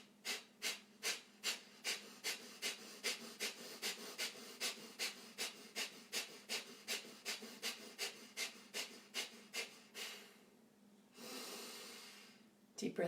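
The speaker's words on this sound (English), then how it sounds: "and once again, breath of fire, and cutting through whatever it is that you want to release from your life right now." Breath of fire, a rapid yogic breathing technique: about twenty-five sharp nasal exhalations pump in a steady fast rhythm, close and clear, then stop and give way to a long, drawn inhale.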